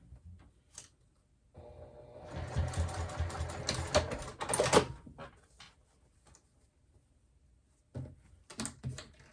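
A sewing machine bastes the side edges of a clutch purse in a short burst of close, rattling stitching, followed by quieter clicks and handling noises of fabric and parts.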